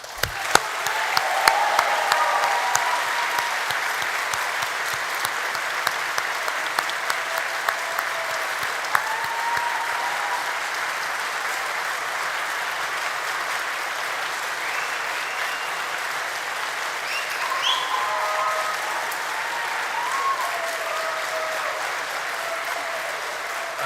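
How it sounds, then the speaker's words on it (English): Sustained applause from a university graduation audience honouring staff, dense and steady for the whole stretch with a few sharper claps near the start, heard from within a large hall. "I'm sure you would like to join with me in giving the staff a warm round of applause"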